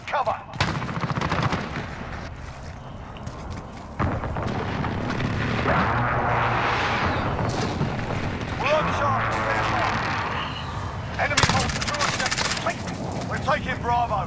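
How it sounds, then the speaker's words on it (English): Precision airstrike explosions in Call of Duty: Modern Warfare crash through a steady din of battle, with booming blasts and crackling gunfire that build to a loud cluster of impacts near the end, while voices talk over the noise. "Enemy precision airstrike, take cover!"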